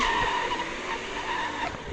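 A car in a driving video game lands after a jump, giving a brief scraping screech like tires skidding that fades and then comes back, with no voices.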